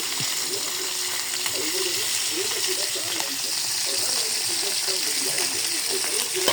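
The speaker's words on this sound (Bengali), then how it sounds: "আমরা এখন খুব সুন্দরভাবে মাছ ভেজে নিব" Fish frying on a small clay stove fed with wood, a continuous loud sizzle and crackle of oil heard up close, with faint bubbling and a brief voice murmuring underneath.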